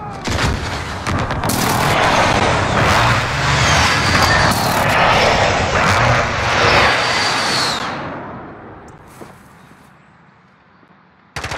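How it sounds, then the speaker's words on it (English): Precision airstrike in Call of Duty: Modern Warfare, a loud sustained roar of jets passing overhead with heavy blasts and rumbling impacts for several seconds, then fading to quiet. "Friendly precision airstrike on the way."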